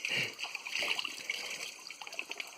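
Waterfall water flowing near a picnic spot outdoors, a steady hissing rush with splashing and trickling, close and continuous.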